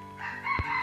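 A Minecraft chicken lets out a short clucking call, loud and close, with a low thump in the middle over steady background game sound.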